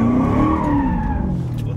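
Corvette tires skid and squeal in a drift, a loud sustained screech with sliding pitch over the deep engine drone, close and continuous for under two seconds.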